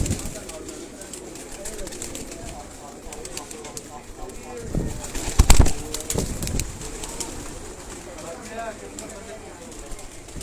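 Batera and Kasuri pigeons coo at a loft in Sialkot, a steady low murmur of soft calls running throughout, with a louder burst of movement near the middle.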